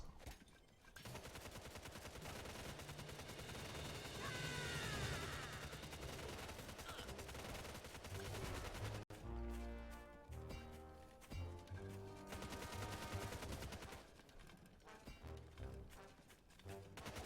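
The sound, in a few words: machine gun nest firing in the video game Tooth and Tail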